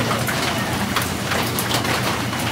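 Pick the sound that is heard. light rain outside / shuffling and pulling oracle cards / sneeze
light rain outside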